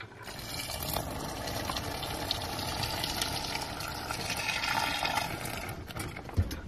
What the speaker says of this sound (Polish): Trochę zimnej, nalewam teraz ciepłej.